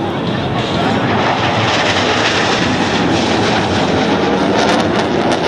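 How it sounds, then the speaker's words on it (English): Two F-15 fighter jets maneuvering at a Singapore air force open house air show at Paya Lebar, a loud continuous broadband jet roar that holds steady throughout with a faint voice underneath. "F-15s. Maneuvering for a similar strike."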